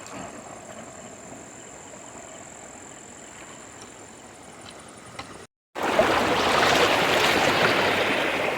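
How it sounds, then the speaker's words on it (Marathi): A quiet hum gives way after a brief silence to a loud, steady rush of fast-flowing river water at night. "नदीला जोरात पाणी आहे"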